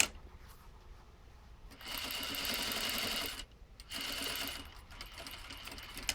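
A sewing machine stitches a skirt seam in two short, quiet runs of steady mechanical whirring with a brief pause between them.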